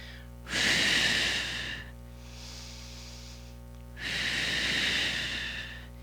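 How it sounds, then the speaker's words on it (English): Heavy breathing during a high plank exercise on a workout: two long, loud exhales roughly three seconds apart, with a fainter breath between them over a low steady hum, no talking. "You hear me breathing."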